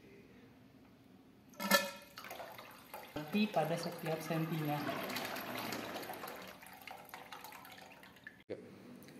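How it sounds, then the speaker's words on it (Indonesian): Water drains by hand from a blue tap on a tank in a control-systems lab experiment. It splashes and trickles in a busy rush after a sharp knock, under a person talking. "Pengurangan air ini dilakukan secara manual dari keran biru ini."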